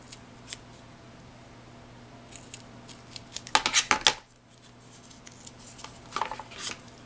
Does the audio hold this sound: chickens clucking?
no